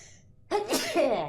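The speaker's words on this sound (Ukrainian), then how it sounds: "Бо я давно не пчихав." A single close, sharp sneeze from a man bursts out after a moment of near-quiet, followed by a short breathy tail.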